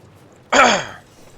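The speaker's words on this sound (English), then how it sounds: "I'm a little bit sick, so I'm going to be coughing from time to time." A single short, hoarse cough or throat-clearing from a man who is sick, close to the microphone, standing out alone against a quiet background.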